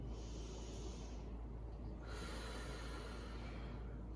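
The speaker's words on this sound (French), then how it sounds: "Une dernière respiration." A deep breath during a Pilates cool-down, heard as a soft, close, airy inhale and exhale with a steady hiss over quiet room noise, with no talking.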